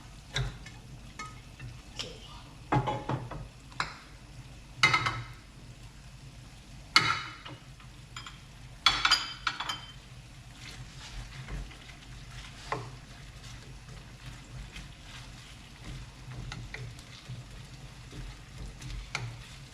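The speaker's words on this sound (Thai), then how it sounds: "มันก็จะใส่หอมลงไปนะคะทุกคน เอาไปผัดนะคะ หอมกับเห็ดออนใส่ลงไปพร้อมกันเลยเนาะ" Onions and mushrooms stir-fried together in a pan: a low, quiet sizzle broken by intermittent sharp scraping strokes of the spatula, several louder scrapes clustered in the first half.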